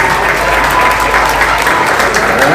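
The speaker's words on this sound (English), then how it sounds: "Let's give these young people a round of applause." A crowd applauds at a commercial pig show, a steady dense wash of clapping that holds loud and even from start to finish.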